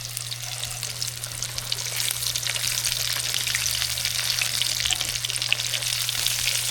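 Food sizzles steadily in a pan for a beach catch-and-cook meal of pompano or sheepshead, a bright crackling hiss that swells and holds close and loud beside a low steady hum.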